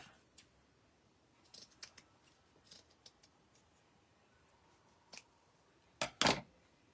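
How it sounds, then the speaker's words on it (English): Scissors snip a small piece off burlap for a craft bow, giving a series of close, crisp cuts: scattered single snips, then a louder double crunch near the end. "Just took a piece of burlap and I'm just going to cut a little piece of it off."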